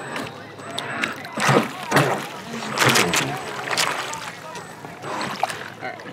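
Water sloshing and splashing against a moving boat hull on a lake in uneven surges, close by, with voices talking in the background.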